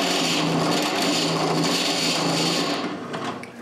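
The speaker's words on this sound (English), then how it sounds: "I drill a bigger hole with a step bit." Step drill bit boring a larger hole through a small pulley, a steady, close grinding whir with a rasping edge that holds for about three seconds and then tapers and stops.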